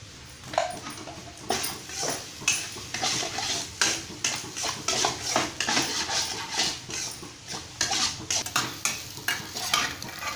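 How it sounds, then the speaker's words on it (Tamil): Egg and drumstick flowers are stirred in a pan as a stir fry, with repeated scraping and clattering strokes of a spatula over a light, continuous sizzle, in a brisk, uneven rhythm throughout. "முட்டை வந்து கீழே அடி பிடிக்கும், கைவிடாமல் கிளறிக்கோங்க"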